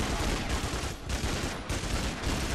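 Auto rifle gunfire in the PS2 game NARC fires in a loud, sustained burst, a dense rattling stream with brief dips in intensity, and no talking.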